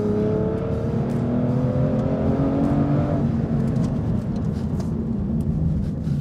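An Aston Martin V12 Vantage Zagato roars loudly around a track, its close V12 engine drone climbing in pitch under acceleration and then easing off.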